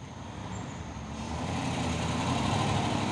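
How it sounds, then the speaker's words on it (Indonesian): Heavy palm oil trucks run their diesel engines in a steady, loud rumble that builds slightly in volume, a continuous low drone close by with no talking. "Pasukan truk sawit."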